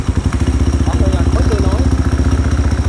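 Yamaha Exciter motorcycle with a dry clutch idling up close, a loud, rhythmic rapid chug with a metallic clatter throughout, someone speaking over the engine.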